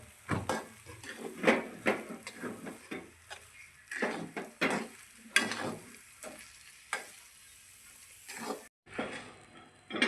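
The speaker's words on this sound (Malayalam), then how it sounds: "നന്നായിട്ട് നമുക്ക് ഈ മാവ് നന്നായി മിക്സ് ചെയ്ത് കൊടുക്കാം." Mashed banana dough with fried cashews and raisins stirred in a bowl, giving repeated wet, squelching scrapes and thuds in an uneven rhythm, close and moderately loud with no talking.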